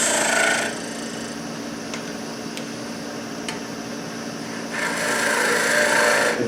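A woodturning tool scrapes across the end grain of spinning wood with a close, coarse rasping hiss that is loudest at the start and end and eases to a softer, steady rub in between.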